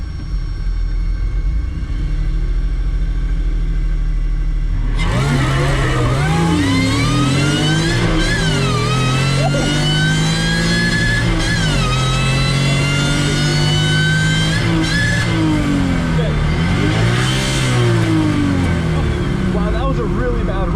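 A supercharged Honda J32A2 V6 in a partially stripped Toyota MR2 idles on the drag strip, then launches hard with loud, rising engine revs climbing through several gear changes, close and sustained, with a brief lift near the end.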